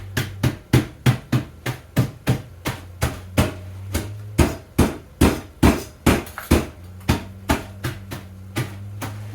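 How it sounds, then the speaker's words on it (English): Repeated heavy thuds of a meat hammer pounding at a steady, regular pace, each blow sharp and close, with a low hum running underneath. "I come in with my meat hammer."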